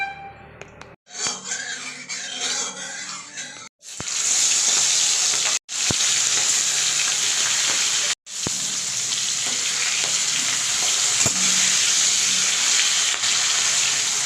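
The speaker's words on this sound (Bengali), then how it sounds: "এবার তেলটা গরম হলে মাছগুলো আমি হালকা করে ফ্রাই করে নেব" Shrimp fry lightly in hot oil in a kadai, a loud, steady, close sizzle broken by brief gaps, preceded by a few seconds of rattling and splashing as they go in.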